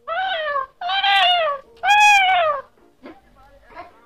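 A house cat meows three times in long, drawn-out, rising and falling calls, loud and close, followed by a couple of fainter short sounds.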